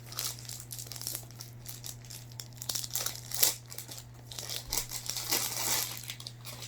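Plastic shrink wrap crinkling and tearing as it is peeled off a brand-new comic omnibus, a close, steady rustle with sharper rips throughout, over a low constant hum.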